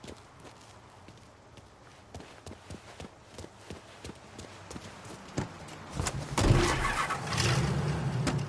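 In the video game Mafia III, footsteps tap along before a car engine rises and the vehicle pulls away, the motor swelling in the last few seconds at moderate loudness.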